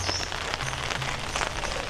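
Steady rain patters over a home garden, a dense continuous hiss of drops hitting leaves and surfaces with no voices, close and evenly loud throughout.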